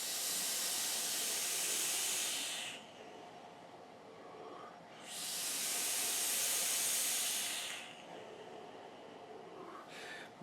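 Two long, loud bursts of broadband airflow hiss from a Hellboy RDA dripper (El Diablo) being vaped, each a few seconds long, followed by a short third draw at the end.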